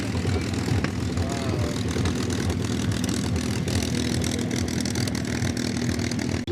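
P-51 Mustang propeller fighters roll past at an air show with a continuous loud, rough engine drone that holds steady throughout and masks a faint background voice.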